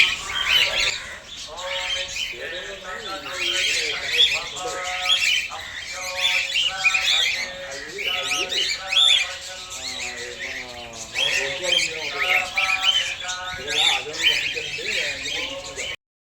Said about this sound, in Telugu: నేనైతే అక్కడక్కడ బర్డ్స్ వాయిస్ అలా వదిలేసానండి